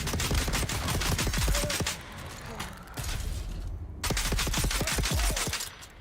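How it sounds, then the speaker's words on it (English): Pistol shots from Dune Awakening crack in fast bursts, loud and close, pausing briefly before resuming, with talk faintly underneath. "this pistol absolutely wrecks"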